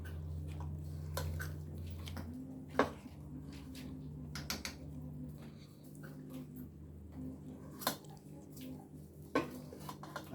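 Dumplings for a Jamaican beef soup are dropped into a pot with a spoon, giving a few faint scattered clinks and soft plops over a steady low hum of simmering liquid.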